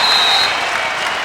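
Crowd applause for a player at a basketball game: a dense, steady wash of clapping from a large audience, continuous and fairly loud throughout the short moment.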